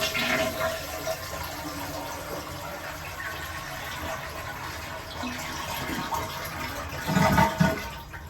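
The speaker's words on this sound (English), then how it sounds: "drain the tank here by simply flushing the toilet" A household toilet with a whistling fill valve flushes with its water inlet shut off, draining the tank in a steady close rushing gush that swells louder near the end.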